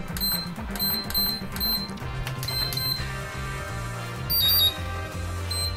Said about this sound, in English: That sound you heard right now is basically the confirmation that the battery is going to be charging.